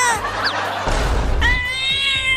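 Cats meowing in a busy indoor scene, with a few drawn-out, wavering meows before and after a brief burst of noisy scuffling; a voice briefly overlaps.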